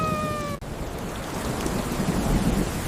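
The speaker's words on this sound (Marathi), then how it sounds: "Hooray! The rain has come." Steady rain pouring down, a dense broadband hiss that continues evenly and close by, with a brief tonal sound cutting off at the start.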